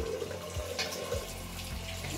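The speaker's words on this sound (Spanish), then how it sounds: "ya me he dado con un jaboncillo, ahora me voy a enjuagar" Tap water runs steadily into a sink as soap is rinsed off skin, a continuous close splashing flow with no talking.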